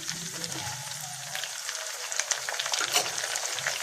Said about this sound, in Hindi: अब मैं इसमें टमाटर शामिल कर देती हूँ।